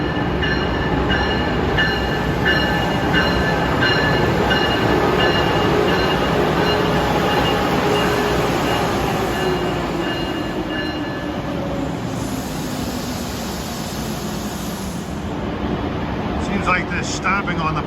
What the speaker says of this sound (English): Here comes train 2159, the Acela Express bound for DC,